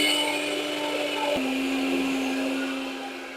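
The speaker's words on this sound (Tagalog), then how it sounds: "Then, i-blend na natin. Yan, naka-blender na." A kitchen blender whirs steadily as it purées a sweet potato mixture with water for camote turon, the motor pitch shifting once partway through before running on and easing slightly at the end.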